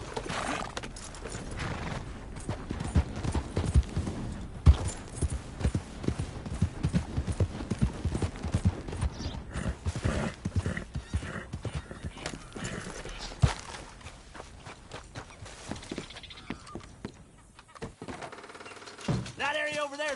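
Horse hooves clip-clopping at a steady pace in Red Dead Redemption 2, with occasional whinnies, rustling tack and mechanical clatter mixed in, continuous and fairly close, fading out near the end.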